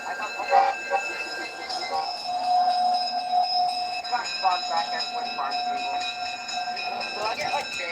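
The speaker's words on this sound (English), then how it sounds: "They have two F units on the train, one at each end, so it's operating commuter style." A Roblox commuter-style train with two F units, one at each end, rolls along with a steady rumbling drone and clicking wheels, while people talk over it throughout.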